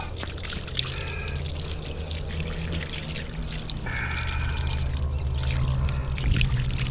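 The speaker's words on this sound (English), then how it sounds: "Let me get the water turned on" Water runs steadily from a tap at an outdoor fish-cleaning spot in Jamaica, a continuous splashing pour with a low hum beneath it and faint background sounds.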